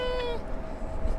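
A person imitates a cat's meow, imitating a bobcat, a single drawn-out, slightly warbling call that fades into quiet room noise, at a plane-spotting session near LAX airport in Los Angeles.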